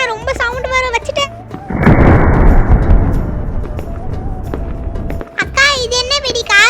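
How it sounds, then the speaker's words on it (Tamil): An auto bomb firecracker goes off for Diwali with a loud, sudden blast and a long crackling roar that fades slowly, between stretches of a child-like voice talking before and after. "நெக்ஸ்ட் நான் இந்த ஆட்டோ பம் வெடிக்கிறேன்"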